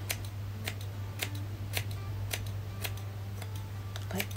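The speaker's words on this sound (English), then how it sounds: "I'm just going to pull this down and I'm going to just trim into it a little bit," Scissors snip a hair fringe in a series of quiet, sharp clicks at an irregular pace, close up over a steady low hum.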